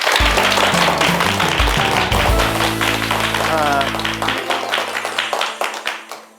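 A lecture hall audience applauds at a televised talk by a conductor, dense clapping that starts loud over music and tapers into scattered claps.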